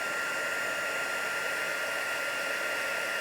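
A heat gun blows a steady, loud, even hiss while melting embossing powder on a handmade card, with no talking over it.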